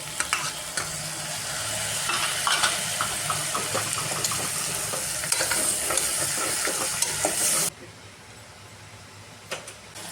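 A medium tomato sizzles and fries in a pan while being stirred, for a mutton bone soup, with steady loud frying hiss and scraping stirs. The sizzle drops away abruptly near the end.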